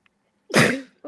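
A single sharp, close sneeze bursts out after a moment of silence, then fades quickly.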